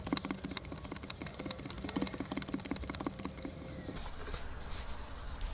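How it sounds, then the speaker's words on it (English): Playing cards dealt one by one onto piles during a card trick, giving a quick run of soft, close flicking taps that slows and gives way to a brief rustle, with no talk. "So whatever colour you deal face up, you then deal the face down card onto that pile."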